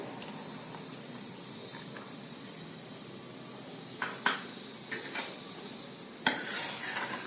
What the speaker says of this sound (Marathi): चमच्याने लगेच हलवून घ्यायचं गाठी अजिबात राहू द्यायचं नाही